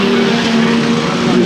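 Racing cars speeding around the Arlington Stadium track, a steady loud engine drone with sustained tonal hum, heard close under commentary.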